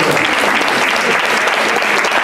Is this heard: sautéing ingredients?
no